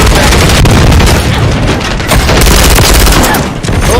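A stun grenade detonates in a video game firefight: a loud, dense blast of broadband noise that fills the whole moment with no pause and no speech.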